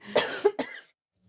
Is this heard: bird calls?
no